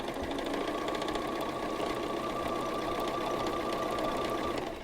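A sewing machine stitches quilt square units, its rapid, even mechanical clatter running steadily and close throughout without pauses or speech.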